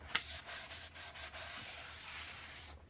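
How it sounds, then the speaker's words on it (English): Sandpaper of 220 grit rubs lightly over a cured resin surface, a continuous close scratchy hiss broken by short strokes and pauses, with no one speaking. "I use 220 grit, sand it down lightly"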